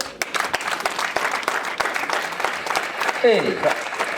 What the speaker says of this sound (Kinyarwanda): Mwatanga amashyi?